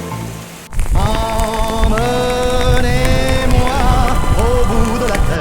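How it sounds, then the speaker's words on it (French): Rain pours during a mountain trek toward Etang Fourcat and Pic de Tristagne, a steady hiss of drops on surfaces running under a song with a singing voice that dominates. "On s'est fait surprendre par la pluie."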